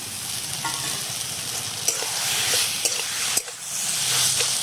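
Prawns fry in a pan with colocasia greens and grated coconut, giving a loud, continuous sizzle broken by a few sharp stirring clanks and scrapes.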